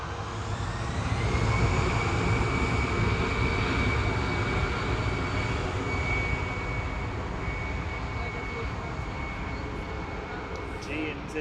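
Aircraft engines roar steadily at Manchester Airport, a loud continuous drone with a faint high whine running throughout, while people talk nearby.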